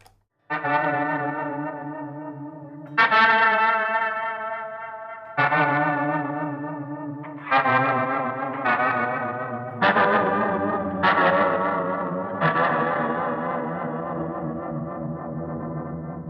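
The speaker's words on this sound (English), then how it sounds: "a little bit of vibrato and a reverse delay" An electric guitar plays ringing chords and notes with a wavering vibrato and swelling, backward-sounding delay trails, each strike blooming and sustaining alone.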